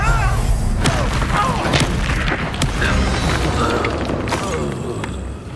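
A Confringo fire-spell blast in the video game Hogwarts Legacy, a loud booming crash that stays dense and roaring across the whole stretch, with sharp impact transients layered over heavy low rumble.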